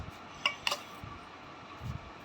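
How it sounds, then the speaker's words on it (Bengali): Rice served onto a plate: two quick, close metallic clinks of a spoon against the dish, followed by a soft scrape, over a quiet room hum. "আবার অন্য একটা ব্লকে ভাতটা বেড়ে দিচ্ছি"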